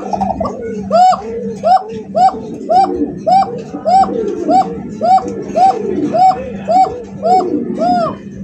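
Copper Lark pigeons cooing in a steady repeating series of close, rhythmic coos over low background hum.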